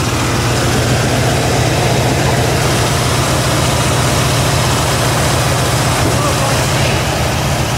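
A warmed-up 351 Windsor V8 in a 1982 Ford F150 idles with a steady, close, low rumble throughout, while people talk over it.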